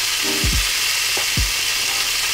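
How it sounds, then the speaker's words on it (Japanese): Spare ribs sear in a hot skillet, giving a steady bright sizzle with a few low thuds as the meat is moved or set down, close and unaccompanied by voices. "はい、スペアリブを焼いていきます。"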